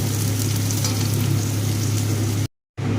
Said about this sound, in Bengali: পেঁপে আলু ভাজা হয়ে গিয়েছে